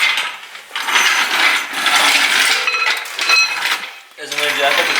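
Ratcheting jack clicks steadily while the caliper is jacked up during a coilover install on a Mazda RX-7, loud metallic mechanical rattling that runs nearly continuous with short breaks.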